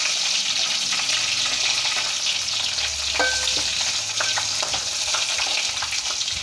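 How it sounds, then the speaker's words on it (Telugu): Spices, garlic, dried red chillies and cashews sizzling in hot oil for a tempering, a steady loud frying hiss with faint stirring clinks, no voices. "నేను పోపులు మొత్తంగా వేసుకుంటున్నాను ఫ్రెండ్స్."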